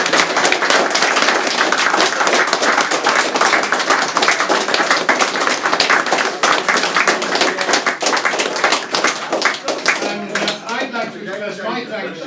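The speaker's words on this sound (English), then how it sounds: "Can you give them all a round of applause?" Sustained audience applause following a live debate, dense clapping filling the room at close range and steady for most of the stretch, thinning near the end as a few voices begin to emerge.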